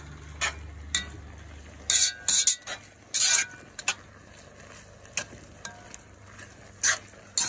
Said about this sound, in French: Et on touille